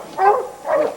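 A hunting dog on a bear hunt lets out two quick, close barks, one after the other.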